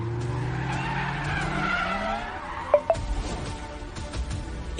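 Large cars pull up with tires skidding and squealing, a long sweeping screech under engine rumble, followed by a couple of sharp thuds and fading road noise, loud and fairly close.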